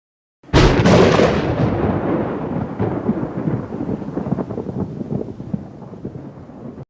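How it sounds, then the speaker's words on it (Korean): A thunder sound effect from a storm opens with a sudden loud crack, then rolls into a long rumble that slowly fades over several seconds, heard alone. "천둥 소리가 하늘을 찢을 듯 울려 퍼지고"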